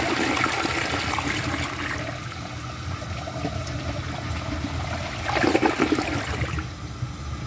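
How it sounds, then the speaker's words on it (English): A 1994 first-generation Mansfield Alto toilet flushes with a steady rush of water for several seconds, then a louder surge and gurgle as the bowl drains, heard close up with no talking. "But for now, let's give it a flush."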